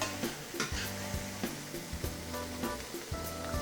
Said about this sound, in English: after you toast the seasonings a little bit and let them marry with the peppers and onions